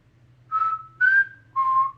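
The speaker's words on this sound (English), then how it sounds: "can you teach me how to whistle?" A person whistles three clear, sustained notes close by, each pitched differently and separated by short pauses, with a faint low hum underneath.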